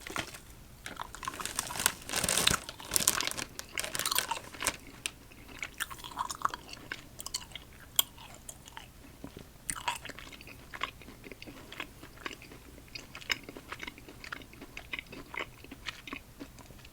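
Close-up mouth sounds of someone chewing candy, with crunchy bites, soft moist chewing and occasional crinkling of a wrapper, in a quiet room with no talking.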